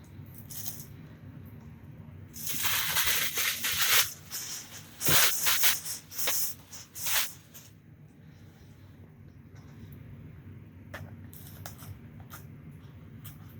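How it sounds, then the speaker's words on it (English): Crinkling plastic of a garbage bag being pulled out and handled in a clinical setting, several bursts of rustling clustered in the middle, fairly close, with quieter handling noise before and after. "And now I will take out my garbage bag"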